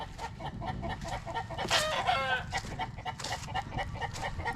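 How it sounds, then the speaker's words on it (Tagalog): Several chickens cluck and squawk close by at a beach, with one louder drawn-out call rising above the steady clucking. "Ay, may mga manok din pala dun."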